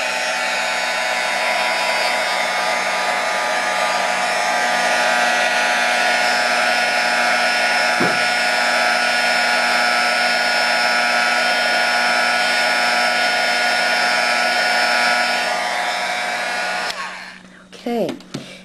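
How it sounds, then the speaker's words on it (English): A heat gun blows steadily on gold embossing powder, a loud continuous whirring hiss holding for about seventeen seconds before cutting off, followed by brief clatter. "this is where your heating gun comes in"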